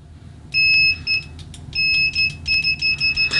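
Continuity beeper of a Klein MM320 multimeter on its stock test probes, a loud high electronic tone sounding in irregular stuttering pulses, one long beep and then a choppy run of short beeps.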